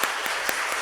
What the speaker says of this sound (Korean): 우리 다 같이 크게 박수로 환영하겠습니다.